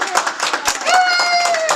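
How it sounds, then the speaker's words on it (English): A live convention audience claps briefly and loudly close by, and a drawn-out vocal cheer soon rises over the clapping. "Everybody clap, yeah."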